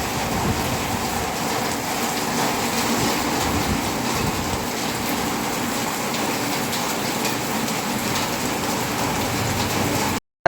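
Steady, dense rain falls in Muzaffarpur, a continuous loud wash of drops hissing on surfaces for about ten seconds with no voices, then cutting off abruptly.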